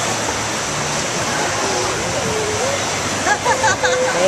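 Steady rushing water at a Kings Island amusement park water ride, a continuous broad wash with a faint surge near the end as people's voices call out over it.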